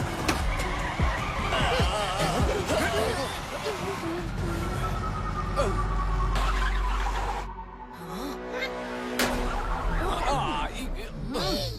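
A jeep speeds off in a police chase, its engine roaring loudly with tire skids and squeals amid busy action, steady and close throughout with a brief dip near the end.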